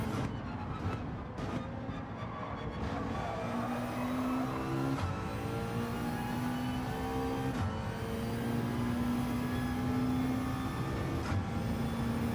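Citroen race car engine in Gran Turismo 7 at Fuji, accelerating steadily with a rising, sustained drone that shifts pitch through gear changes, loud and continuous with no talk.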